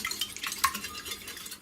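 Eggs, milk and sugar being stirred together in a bowl, a quiet, steady swishing with one brief utensil clink against the side partway through.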